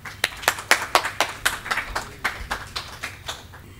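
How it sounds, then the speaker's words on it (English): Applause from a modest crowd welcoming artists to the stage at a Hindustani classical music concert, with distinct, slightly uneven claps that thin out and fade toward the end. "Please welcome them with a warm round of applause"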